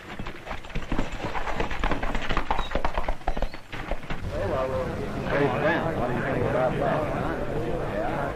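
Horse hooves clip-clop in a rapid, steady rhythm on a 1940 Western film soundtrack, then voices of several people talk over the hoofbeats in the second half.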